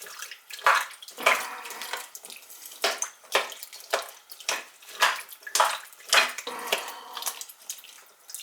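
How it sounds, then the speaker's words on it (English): Water is poured into a crockpot in a series of uneven splashing bursts, about a dozen gushes and trickles at close range, with no talking. "I'm going to have to add a little bit more water because of the rice."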